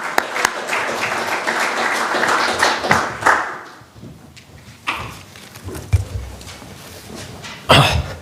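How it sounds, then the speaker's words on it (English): A conference audience applauds as a panel moderator is welcomed at a carbon markets summit, with a dense burst of clapping at first that thins into scattered claps and a few sharper late ones, plus some coughing and shuffling. "if we get Carlo up here with a round of applause to encourage him"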